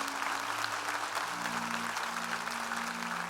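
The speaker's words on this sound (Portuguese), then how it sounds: "Igreja, vamos aplaudir os nossos visitantes?" Church congregation applauding visitors during a service; even, continuous clapping from many people with a low held organ or keyboard tone sounding underneath.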